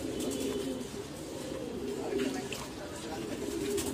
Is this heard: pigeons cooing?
yes